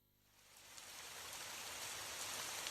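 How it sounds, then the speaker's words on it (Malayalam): Rain starts falling, rising quickly from near silence into a steady, dense hiss that holds at an even level to the end. "ദാ വീണ്ടും മഴ."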